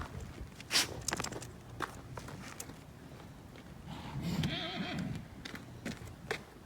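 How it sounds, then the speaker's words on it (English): A horse being broken on a farm whinnies in a wavering cry midway, with slow hoof steps and clip-clops around it, heard from a moderate distance in an outdoor setting. "What are you guys doing with that horse over there?"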